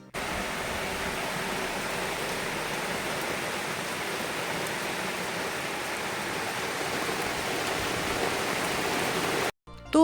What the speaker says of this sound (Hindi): और बहुत तेज़ किस्म की फिर बारिश शुरू हो गई थी